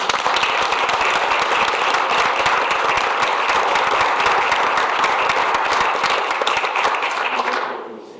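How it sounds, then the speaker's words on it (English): An audience at a school board of education meeting breaks into loud, sustained applause, dense clapping that holds steady for several seconds before quickly fading out at the end. "Let's give her a round of applause."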